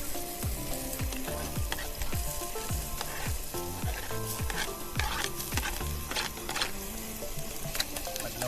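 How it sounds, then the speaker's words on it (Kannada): Butter frying in a pan for Maggi noodles at an outdoor camp: a steady close sizzle with frequent crackling pops and spits, running continuously without talk. "ಬಟರ್ ಹಾಕ್ತಾನೆ ಹೀಗೆ ಗೋಲ್ಡನ್ ಬ್ರೌನ್ ಆಗೋ ತನಕ ವೆಯ್ಟ್ ಮಾಡಿ"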